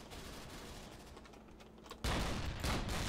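Gunfire in the Dino D-Day video game, a faint distant rattle that jumps into a louder, denser burst of shots partway through, with no one speaking.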